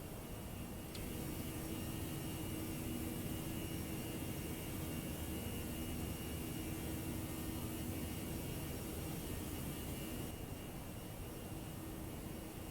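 Jet engines of an Air Canada Airbus A319 in the X-Plane 12 flight simulator hold a steady, even roar with a broadband hiss that barely changes from start to finish.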